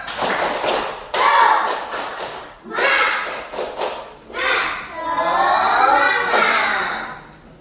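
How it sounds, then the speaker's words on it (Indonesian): A school class does a rhythmic clapping chant, bursts of group claps alternating with children's voices chanting together in a classroom. "Tepuk semangat."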